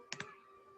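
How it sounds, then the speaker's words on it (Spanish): Two quick, crisp computer mouse clicks land close together in a quiet room, faint and near, with nothing else heard. "dale clic acá"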